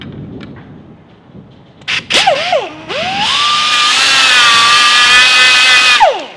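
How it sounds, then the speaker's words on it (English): A high-pitched die grinder grinds down an aircraft rivet, revving up in short bursts, then settling into a loud, sustained whining grind before spinning down. "I got to take what's called a die grinder. I get to grind it down"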